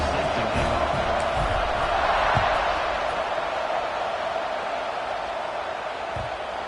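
Stadium crowd at kickoff in a football video game, a loud continuous roar of cheering with scattered whoops and thuds.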